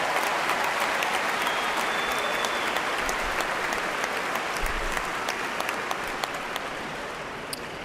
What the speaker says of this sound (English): how about one more big round of applause for Professor John Strada and all those names